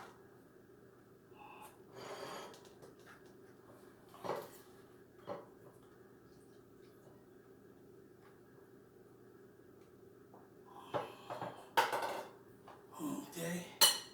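Bowls and plates clatter with cutlery while pineapple salad is served at a kitchen counter, scattered clinks and knocks over a quiet background, busier toward the end.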